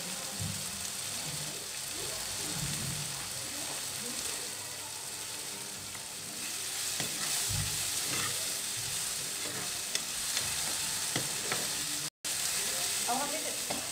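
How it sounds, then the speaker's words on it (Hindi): Tomatoes cooking down in oil in a covered pan, a steady, close sizzle and crackle with occasional stirring scrapes and a brief dropout near the end. "हमें इसमें टमाटर को गलाना है तो मैं इसको कवर कर दूंगी तो ये गल जाएगा।"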